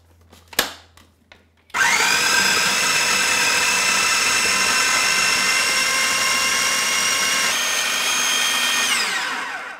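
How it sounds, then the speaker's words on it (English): A food processor whizzes a chicken and coriander kebab mixture with salt, starting after a few light taps and then roaring loudly and steadily for about eight seconds before slowing down at the end. "Put the lid on and give it a whiz."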